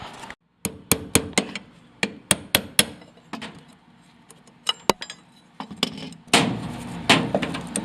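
Hammer blows drive nails out next to drywall and J-trim during a geodesic dome restoration. They land as sharp close strikes in an uneven series, some in quick pairs, followed by a rougher scraping rattle.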